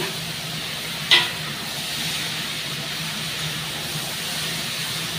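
Chopped ash gourd sizzles in a pan for a home-style Bengali dish: a steady, close hiss of frying with one sharp clatter near the start and no talking.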